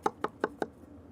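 Four quick, evenly spaced crisp cuts break through the browned crust of a baked turkey pot pie, sounding close and clear before fading into quiet.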